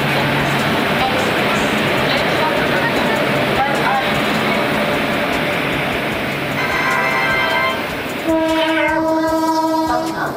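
An express train from Jodhpur's Bhagat Ki Kothi bound for Kamakhya passes on Indian railways. Its loud, continuous rumble ends with sustained horn blasts.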